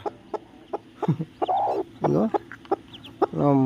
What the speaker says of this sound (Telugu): చూడండి ఇది ఇంకో కోడి